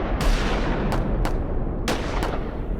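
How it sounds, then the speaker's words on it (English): Battle gunfire from the Battle of Kings Mountain: several sharp, scattered shots crack out at irregular intervals over a steady low rumble of combat noise. "As the bullets rang out,"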